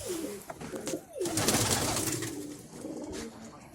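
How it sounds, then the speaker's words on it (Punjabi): Pigeons coo in low, throaty, repeated calls, fairly close, with a soft rustle of background noise and no talking. "ਕਬੂਤਰੀਆਂ ਵਿਖਾ ਦੇ ਤੁਹਾਨੂੰ"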